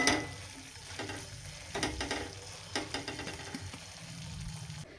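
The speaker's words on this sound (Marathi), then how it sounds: "एकदम छान परतून घेते" A pan of dry-spiced cabbage stir-fry sizzles steadily while a spatula stirs and scrapes through it, giving irregular close scraping strokes over continuous frying noise.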